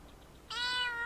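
A cat in the survival game Vintage Story lets out a single clear, drawn-out meow, close and fairly loud after a quiet moment.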